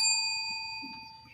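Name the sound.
bell being rung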